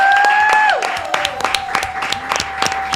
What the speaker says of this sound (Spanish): vamos a recibir con un fuerte aplauso a Dolores Fonzi.